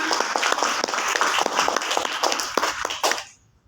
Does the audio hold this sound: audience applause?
yes